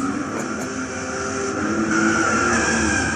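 A 1970 Dodge Charger 440 R/T from Fast and Furious is driven in Gran Turismo 6 at Tsukuba, Japan, giving a continuous droning engine note that rises slightly in pitch with steady tyre and wind noise and no voices.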